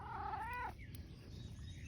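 A calico cat gives one rising then falling meow, close and clear, followed by quiet room ambience.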